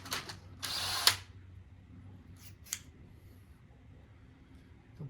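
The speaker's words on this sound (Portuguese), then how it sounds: "Agora eu vou parafusar. Aqui tem essa é uma furadeira, parafusadeira." A cordless drill driver whirs in two short bursts, driving screws into a wooden chair, with a brief ratcheting click and quiet pauses between the bursts.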